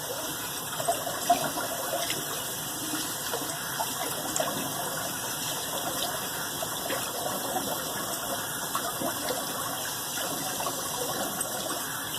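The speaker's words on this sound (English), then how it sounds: "let's get rid of that warm water in the sink and rinse off with the cold" Warm water draining out of a bathroom sink and cold water running for a rinse after a shave, a steady close gushing and gurgling flow with no pauses and no talking.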